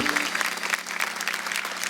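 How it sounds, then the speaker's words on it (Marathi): An audience at a televised women's game show breaks into loud, dense applause, a steady wash of clapping throughout. "जोरदार टाळ्या होऊन जाऊ दे"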